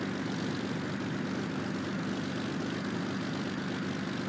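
A Supermarine Spitfire propeller engine in the X-Plane flight simulator drones as a loud, continuous, dense roar with steady rumble, running unbroken with no talk.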